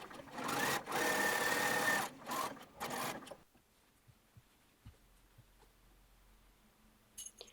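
Close by, a sewing machine stitches the centre back seam of a waistband in a few quick, buzzing bursts over about three seconds, then stops, leaving near silence with faint handling clicks.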